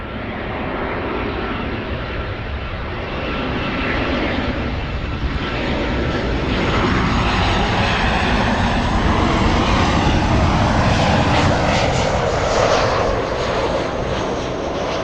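A Cargolux Boeing 747 cargo jet passes at LAX, its engines a loud, steady broadband roar that swells slightly toward the end and holds close throughout, with no voices.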